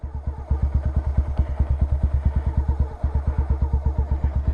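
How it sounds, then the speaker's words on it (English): A motorcycle engine idles while the clutch is eased out to the bite point and begins to grab. Steady, close, loud rhythmic thumping pulses swell slightly early on, with no talking. "release the clutch. And I'm going to be quiet so you can hear it. You're going to hear it grab."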